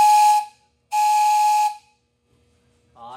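Cord-pulled train whistle at a train museum in Kamloops, two loud, steamy hissing blasts of roughly half a second and one second separated by a short gap, followed by quiet and a faint voice.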